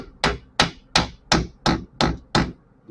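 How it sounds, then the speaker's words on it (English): Small hammer tapping a greased pinion seal into place, seven sharp, evenly spaced metallic strikes in a steady rhythm, close and loud with no talking. "Why I'm using just a wee little hammer."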